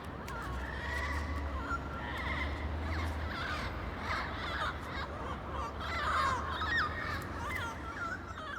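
Wild yellow-headed Amazon parrots of the city population in Stuttgart give harsh, raucous squawks and calls in winter, a busy overlapping flock chorus at moderate distance.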